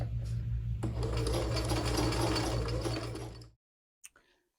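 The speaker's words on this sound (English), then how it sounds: "I am going to get back to sewing" A sewing machine stitching a costume runs at a steady, close mechanical whir for about three seconds, then stops abruptly and leaves a brief faint click.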